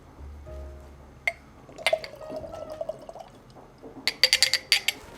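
A drink is poured into a glass for a blind tasting, with soft clinks of glass on glass, a short trickle of liquid, and a cluster of bright taps and drips near the end.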